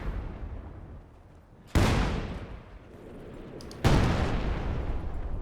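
Artillery barrage in Company of Heroes 2, two heavy explosive booms a couple of seconds apart, each followed by a long rumbling decay over steady battlefield noise.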